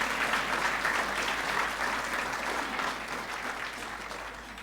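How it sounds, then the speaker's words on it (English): Dinner audience at a distinguished alumni awards event applauds steadily and fairly loudly throughout, a dense wash of many hands clapping that eases slightly toward the end. "would you give them a hand of applause for your service?"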